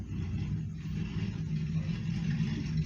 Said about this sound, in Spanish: Disculpen si se escucha el ruido de una moto